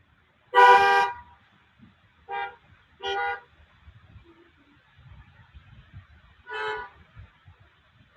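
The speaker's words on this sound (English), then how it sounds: "Honk your horns when you find it." Car horns honk from a church service parking lot: one long blast, two shorter toots, then another blast, each distinct with quiet gaps between and no talk.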